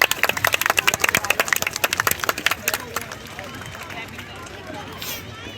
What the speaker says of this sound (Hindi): दर्शकों से अनुरोध है तालियों के साथ इनका उत्साहवर्धन करें।